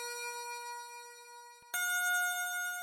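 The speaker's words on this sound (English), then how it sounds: "onto the bells. This one is Dem Bells from Xenology." Dem Bells, a bell preset from Xenology, plays in a mix as a sustained tonal bell note with ringing overtones, then cuts off and a second, brighter bell strike rings out clearly.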